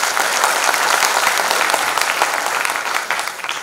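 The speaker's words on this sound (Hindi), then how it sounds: "मुझे लगता है एक बार आपकी तालियां और होनी चाहिए।" Sustained audience applause in a hall at an Atal Geet Ganga tribute event on Atal Ji's birth anniversary, steady, dense clapping throughout with no speech over it.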